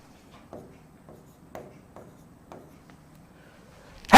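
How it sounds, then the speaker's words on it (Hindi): Chalk or marker strokes on a classroom board, a series of soft scratchy taps and scrapes in an irregular rhythm, close and fairly quiet, ending in a sudden louder knock. "मैं यहीं पे लिख देता हूं"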